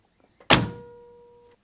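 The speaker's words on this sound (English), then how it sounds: "And listen to the door" A Volkswagen Beetle door shuts with a single solid, close thunk followed by a short metallic ring that fades over about a second, with no talk.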